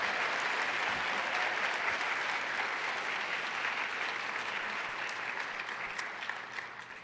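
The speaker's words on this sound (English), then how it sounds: "Another round of applause for those degree recipients." At an award and degree ceremony, an audience applauds degree recipients with a broad, even wash of clapping from a large crowd, heard somewhat distant and fading slightly toward the end.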